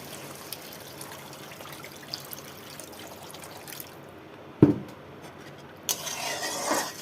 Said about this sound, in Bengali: এখন আমি জল দিয়ে দিচ্ছি